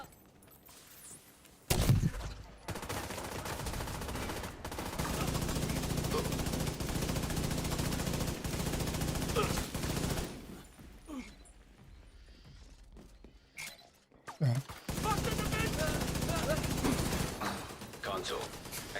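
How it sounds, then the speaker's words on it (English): Two turrets in Warframe trade bursts of automatic fire in repeated loud stretches separated by short pauses, with players chatting between and over the volleys. "2 turrets fighting each other"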